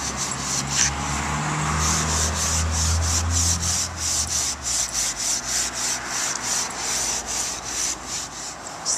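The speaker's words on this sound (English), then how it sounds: "Take your steel wool, it's soaked in apple cider vinegar, and you are going to just scrub" Steel wool soaked in apple cider vinegar scrubs plywood in quick, rhythmic back-and-forth strokes, a close, raspy rubbing that continues steadily throughout with no talking.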